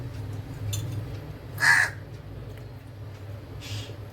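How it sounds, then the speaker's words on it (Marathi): A loud, close crow caw rings out once at a home kitchen, with a fainter second caw a couple of seconds later over a low steady hum. "हा काय कावळा आलाय त्याला चपाती पाहिजे"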